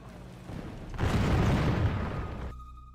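Loud burst of video game gunfire and explosive booms in a sustained, dense volley lasting about a second and a half, preceded by a lower rumble and followed by a sudden cut to quieter game ambience.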